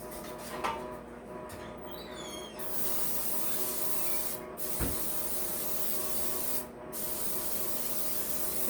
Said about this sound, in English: I'm going to go ahead and spray this pan while I'm waiting on the cocoa.